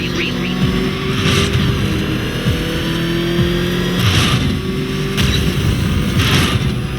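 The Batmobile's engine roaring loud and close in Batman: Arkham Knight, revving with rising and falling pitch and sharp bursts against constant engine noise for the full stretch.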